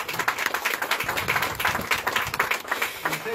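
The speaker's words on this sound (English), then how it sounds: "let's give everybody, these people, a round of applause" Conference audience applauding, a steady mass of clapping with some voices mixed in, fairly close and filling the room.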